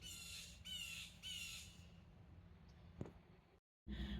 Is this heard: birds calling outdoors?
yes